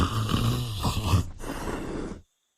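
Loud, close snoring with rough, rumbling breaths, heard alone before cutting off abruptly.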